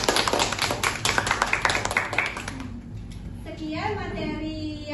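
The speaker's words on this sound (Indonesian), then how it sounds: "beri tepuk tangan." Hands clap in a quick, close patter for a couple of seconds after a correct answer in a chemistry class, then fade as a voice takes over.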